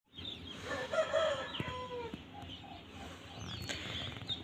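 A rooster crows nearby before sunrise in a long, rising call, with hens clucking and other birds chirping faintly in the background.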